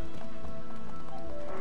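Horse hooves clip-clopping in the video game It Takes Two, a steady rhythmic trot over dense game music and ambience, the hoof beats moderately loud throughout.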